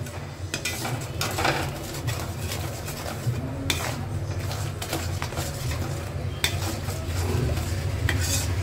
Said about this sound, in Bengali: এবার এটাকে নাড়িয়ে দেবো।